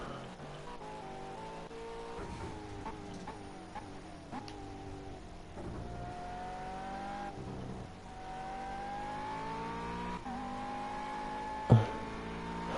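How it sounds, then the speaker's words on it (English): A McLaren GT3 race car accelerates at Imola on the last lap, its engine note rising through gear changes with repeated upshifts, heard from a distance at moderate level, with one short thump late on. "So JB now puts his foot down and is on to the last lap of the race now"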